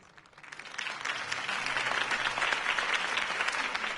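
Applause from a crowd after Harvey Dent's campaign speech in a Batman video game. The clapping swells from quiet to a steady, dense roar and holds for several seconds.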